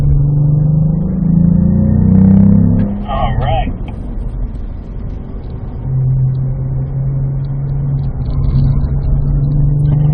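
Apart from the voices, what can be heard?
Cadillac V-Performance car engine accelerating on race track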